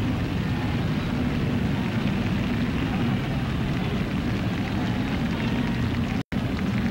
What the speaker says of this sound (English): you probably did hear that a couple of airplanes go over